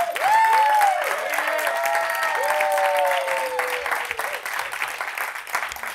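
A conference audience at the Skoll World Forum applauds its speakers, a full wash of clapping with cheering voices rising over it early on, then slowly thinning out.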